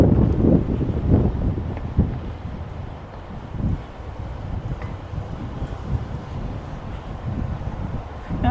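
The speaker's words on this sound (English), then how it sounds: "It's like really windy here, right, everybody?" Strong wind blows outdoors in a steady, heavy rumble buffeting the microphone, with gusts swelling and easing throughout and no voices.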